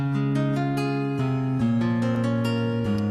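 Warm sustained gospel backing chords shift every second or so, with a light plucked rhythm on top, played smoothly with no voices.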